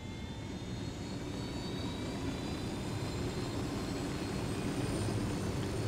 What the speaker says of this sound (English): Let's just head up and board the chopper.